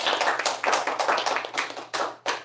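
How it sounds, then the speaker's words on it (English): An audience at a youth speech contest claps, a close, lively burst of uneven hand claps that swells and dips, then ends with a few final claps. "Another round of applause to our"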